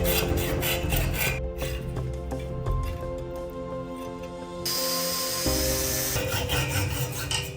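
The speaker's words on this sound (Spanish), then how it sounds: "Ahora debemos cortar de esta forma el eje para que el rodamiento pueda girar libremente." A shaft is cut by hand so a bearing can spin freely while a crankshaft is being made for a homemade spring-driven V8 motor. The rasping strokes are close and steady and come in a repeated rhythm, with brief pauses between them.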